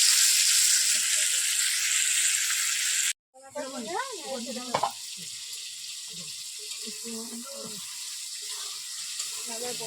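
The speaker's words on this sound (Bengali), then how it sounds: "মাংসটাকে একটু ভালো করে লাল লাল করে তেলে পেঁয়াজের মধ্যে ভেজে নেবো" Meat browning in hot oil with onions gives a steady, loud broadband sizzle that cuts out briefly, then resumes under a person talking for the rest of the clip.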